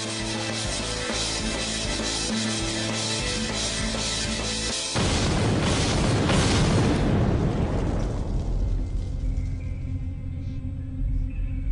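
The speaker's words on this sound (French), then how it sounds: "La détonation résonne dans toute la ville." A dynamite blast goes off, a loud continuous roar of noise that swells then slowly fades into a rumbling tail, with a dense layer of other sound over its start.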